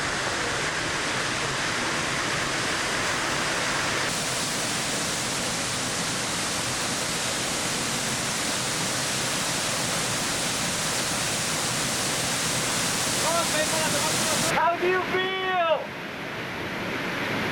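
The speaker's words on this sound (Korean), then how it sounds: "가이드 호세가 데려온 곳은 사포폭포 뒷길이다" A steady, roaring rush of falling water from Sapo Falls in Venezuela fills the scene, heard from the path behind the falls, broad and continuous, ending with a brief change in tone.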